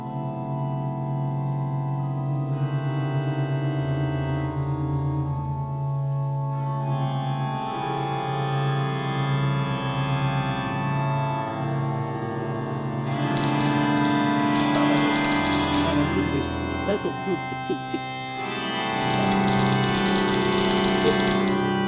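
Organ synthesizer playing music generated from old Lisp code, a dense sustained drone of layered tones with shifting low notes and bursts of bright buzzy texture, fairly loud throughout with no talking.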